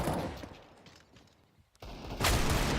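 Desert Eagle pistol shots followed by AK rifle fire in a Counter-Strike match at BLAST Rivals Fort Worth, heard as sharp game gunfire bursts with a loud cluster near the end, under busy in-game ambience.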